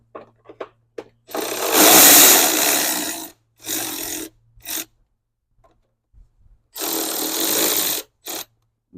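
A wrench loosens a 10 mm battery terminal nut on a Honda, giving several close, raspy bursts of ratcheting and scraping, some long and some short, with quiet gaps between them.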